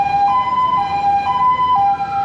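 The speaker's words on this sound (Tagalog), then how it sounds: "yung tunog na yan ng ambulansya, yung ganyang tunog ng emergency" Ambulance siren wailing loud and close, a steady two-tone alternating pitch cycling about every half second, with faint road noise beneath and no voices.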